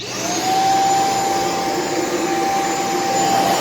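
A Shark Vertex vacuum cleaner runs close and loud on hardwood floors, a steady whining roar with a high tonal hum that holds constant throughout, with no voices over it.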